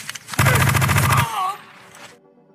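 Rapid automatic gunfire from the Indian war film Lakshya, during an enemy attack on soldiers: a loud burst of quick repeated shots lasting under a second, tailing into a ringing echo, with a narrator's voice nearby.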